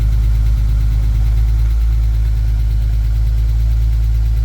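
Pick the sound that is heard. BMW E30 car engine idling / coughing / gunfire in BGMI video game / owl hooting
BMW E30 car engine idling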